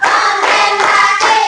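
A group of children claps in a classroom clapping game, three loud waves of dense overlapping hand claps in quick rhythm, close and energetic.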